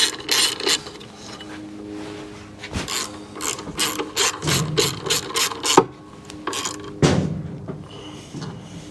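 A ratchet wrench clicks in quick bursts of pawl ticks, tightening a headlight motor bolt on a 1994 Chevrolet Corvette C4, close up with short pauses and a few metallic knocks between strokes.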